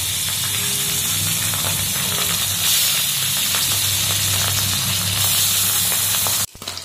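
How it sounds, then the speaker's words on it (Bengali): Three fish frying in hot oil in a home kitchen, a steady, close sizzling hiss that holds throughout and cuts off abruptly near the end. "নামিয়ে নিলাম, এবার এই 3টে মাছ ভেজে নেব"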